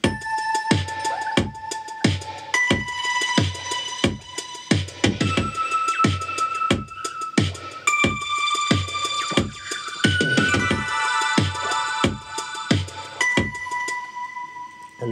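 A synth line processed with tape delay, tremolo, chorus and sidechain compression pulses steadily over a regular kick beat, sustained tones ducking rhythmically and echoing, loud and continuous with no voices.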